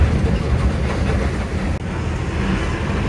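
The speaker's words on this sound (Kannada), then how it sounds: "ಮಿಕ್ಕಿದೆಲ್ಲ ಟ್ರೈನು ಪಾಸಿಂಗ್ ಟ್ರೈನ್ ಇದೆ" Passing train on the route toward Tirupati, a loud, close, steady rumble of rolling wagons filling the whole stretch with a brief dip midway.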